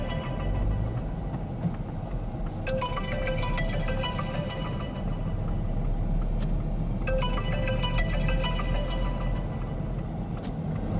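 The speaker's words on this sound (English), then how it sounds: "That's the second time his phone's gone off." A mobile phone rings inside a car during a driving test, two bursts of a repeating electronic melody several seconds apart over a steady low engine and road hum.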